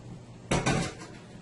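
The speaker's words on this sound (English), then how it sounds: "So into my steamer here, that I have here, I will go ahead and add my plantains" Plantains drop into a metal steamer pot with a single quick, clattering knock, close and brief against a quiet kitchen background.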